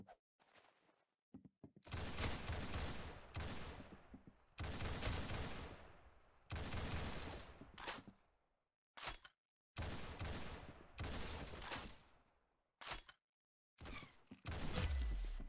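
Bursts of rapid gunfire in a 1v1 shooter video game crackle in clusters of several seconds each, loud and close, broken by short silences and a few single shots.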